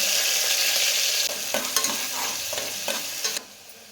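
Onion hitting hot oil for mushroom biryani, a strong sizzle that thins out after a second, then several quick stirring scrapes, with no voices.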